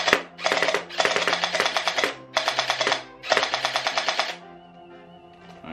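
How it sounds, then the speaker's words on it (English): A Glock-style gel blaster with a drum magazine fires in three rapid, loud bursts of clattering shots, each burst about a second long, with brief pauses between them and a faint mechanical hum after. "they chambered up now and we ready to shoot."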